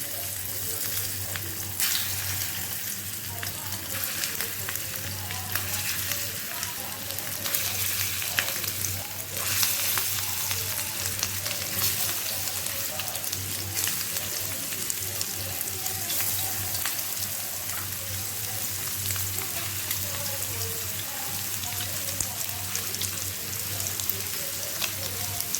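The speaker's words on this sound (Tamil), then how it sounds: "இப்போ நம்ம ப்ரான்ஸ் வந்து ஒன்று ஒன்றா எடுத்து போட வேண்டியதான்." Prawns fry in oil on a hot tawa, one laid down after another, with a loud unbroken sizzle that holds steady and close over the whole stretch, joined now and then by faint crackles.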